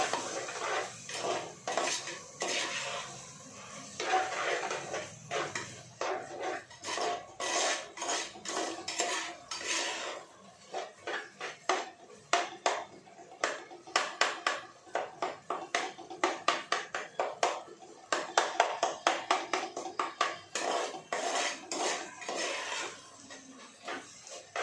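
A metal spoon scrapes and clatters steadily against a pan while onions or similar ingredients are sautéed before masala is added, the rhythmic stirring close and sharp, with no talk.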